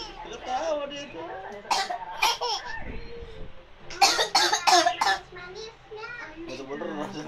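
Adult coughing in several sharp bursts to amuse a baby, with the baby's giggles and laughter following between coughs and some talk mixed in, close and fairly loud.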